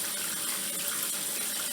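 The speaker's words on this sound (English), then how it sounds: "turn on some cool water" A sink faucet sprayer runs cool water gently to rinse a competition suit, giving a steady, close hiss of spraying water with no break and no talking.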